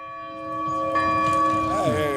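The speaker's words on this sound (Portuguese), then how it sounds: "Essa igreja que nós estamos vendo o sino tocar" A church bell in a small village church rings nearby with long sustained metallic tones that swell and overlap, ringing alone without talk.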